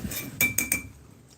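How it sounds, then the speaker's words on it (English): A metal utensil clinks and scrapes briskly against an MRE pouch or container of vegetable lasagna, three or four sharp close taps in quick succession, then quiet. "There, I gave those a quick stir."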